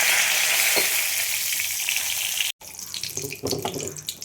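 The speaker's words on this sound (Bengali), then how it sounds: "কড়াইয়ের মধ্যে ফোড়ন দেব, জিরে দিয়ে দিলাম, আর কিছু তেজপাতা।" Cumin seeds and bay leaves hit hot oil in a wok, giving a bright steady sizzle that cuts off briefly, then resumes with crackling pops and scraping stirs.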